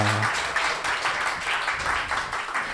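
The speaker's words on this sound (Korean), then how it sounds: "네, 박수 해주세요." Steady applause from a congregation at a middle-school church youth service, a dense continuous patter of many hands filling the room without a break.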